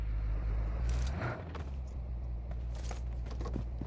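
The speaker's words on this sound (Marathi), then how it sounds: "गाडी आणतो मी आता" A vehicle engine drones steadily in the BGMI battle royale game, a constant low rumble running through the clip, with faint clicks and game effects layered over it.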